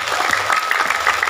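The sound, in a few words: audience applause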